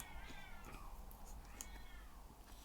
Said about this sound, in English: my cat's fighting outside.